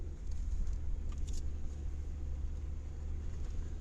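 A car driving slowly along a snowy dirt track in the Bulgarian countryside, a steady low engine rumble with rough road noise inside the cabin, a few faint creaks and knocks, and no talking.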